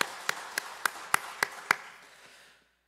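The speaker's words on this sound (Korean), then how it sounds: "하나님께 영광의 박수 올려드립니다." At a Sunday worship service at Seonyeon Church, a congregation claps together in six sharp, evenly spaced beats. The claps ring in a reverberant hall, then the room tail fades to quiet.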